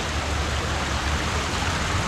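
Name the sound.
waterfall in Northern Michigan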